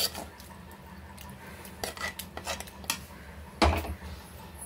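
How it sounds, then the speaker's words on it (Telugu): Sesame rice being mixed with cooked tamarind in a pot for a sesame pulihora, a spoon scraping and clinking against the metal in scattered knocks, with one louder scrape near the end; no talking. "వేసేసుకొని మొత్తం కూడా ఇట్లా కలిపేసుకుందాము."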